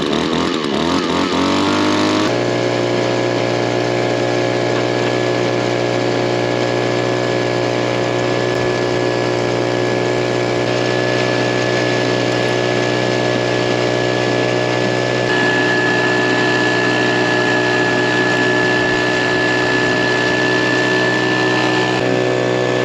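The engine of a Keen 140S dry washer fires up after a brief rough start. It settles into a loud, steady, unbroken running drone that lasts without pause.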